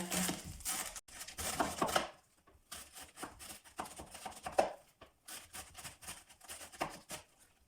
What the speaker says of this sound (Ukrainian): нарізаємо білокачану капусту приблизно по 1 см.